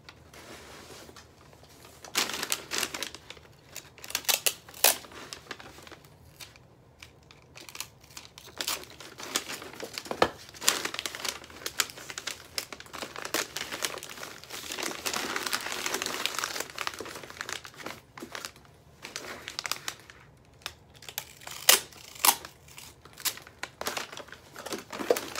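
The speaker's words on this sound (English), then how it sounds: "I'm going to use some tape to tape it" Paper being wrapped around a wreath box and taped, with long stretches of crinkling and rustling, tape pulling and tearing, and scattered close handling noises, irregular and fairly quiet throughout.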